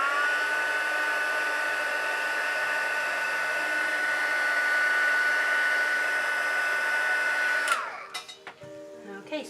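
A heat gun blows steadily at close range with a constant whining hum while heat setting a chin prosthetic, then switches off near the end, leaving brief soft handling noises.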